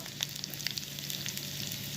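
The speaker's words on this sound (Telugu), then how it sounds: "ఇప్పుడు పోపు వేసేసుకుందాం. ఆవాలు, జీలకర్ర, ఎండుమిరపకాయలు, అలాగే ఇంగువ" Mustard seeds, cumin and dried red chillies tempering in hot oil for a garlicky leafy-greens dal, giving a steady close sizzle with scattered sharp pops and crackles throughout.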